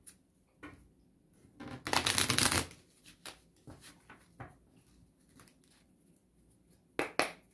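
Tarot cards being shuffled in several bursts: a dense riffling flurry in the middle, then scattered soft flicks and taps, and a final quick pair of riffles near the end, close and fairly quiet with no talking.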